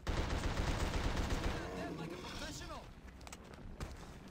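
Gunfire in the horror action game The Suffering strikes the player: a rapid, loud burst of shots at the start that gives way to quieter, scattered impacts. A voice talks throughout.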